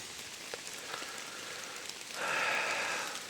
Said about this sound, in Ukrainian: Якраз почався дощик, точніше продовжується дощик.